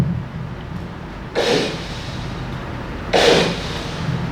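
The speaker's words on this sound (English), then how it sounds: "this is the sound of the explosion." A synthesized explosion sound effect made in the Vital software synthesizer plays twice, each a broad rushing boom burst about a second long over a steady noisy background, with no talking.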